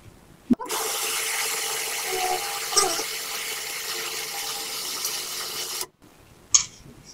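Food processor blending a spicy garbanzo bean dip, a steady loud whirring drone lasting about five seconds, starting and stopping abruptly with a brief clatter after it shuts off.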